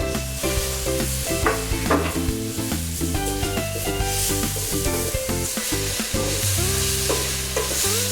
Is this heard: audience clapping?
no